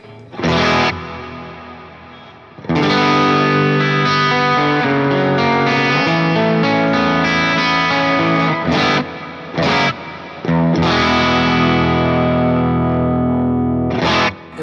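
Distorted electric guitar from an Axe FX preset plays sustained chords and phrases, washed in a bright plate reverb tail that lingers between strums, loud and alone.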